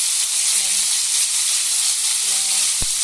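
Fish frying in a pan for sarciado, a steady loud crackling sizzle spitting oil throughout, with a few faint background tones and a brief thump near the end.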